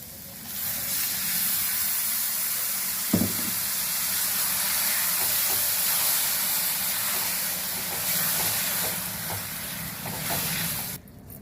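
Tomato puree going into a hot pan of fried onions for a brinjal and potato curry, giving a steady, loud broadband sizzle throughout, with a single soft knock early on.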